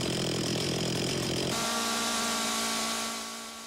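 A chainsaw runs loud and steady at a sawyers competition, its high engine whine holding a constant pitch before dropping slightly and fading toward the end, with no voices.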